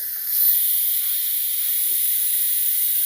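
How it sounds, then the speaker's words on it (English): Steam hisses steadily from a pressure cooker as the pressure is released after cooking menudo, a loud, continuous airy rush that holds without a break from start to finish. "I'm going to switch this over and get the steam off, not burn myself."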